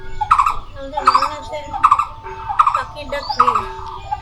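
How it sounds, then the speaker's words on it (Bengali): Birds sing in a home garden with roses and a lychee tree, clear repeated chirping phrases in short bursts that sound close and bright against a quiet background. "কি সুন্দর পাখি ডাকতেছে।"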